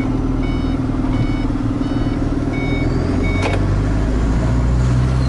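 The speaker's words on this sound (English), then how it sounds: "A high vehicle's coming opposite after driving all the way through the town." A high vehicle approaches and passes on a narrow road leading into a town, heard from inside a truck cab as a continuous deep engine rumble with faint repeating beeps.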